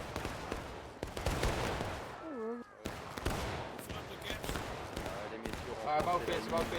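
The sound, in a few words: musket fire in a historical battle video game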